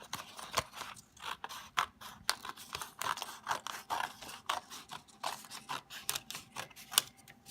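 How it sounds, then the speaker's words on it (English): Scissors snip through folded paper for a ribbon tree craft, giving a close, quiet run of rhythmic cuts and crisp crunches, each snip a sharp burst, with no talk. "keep your paper folded and cut along that line"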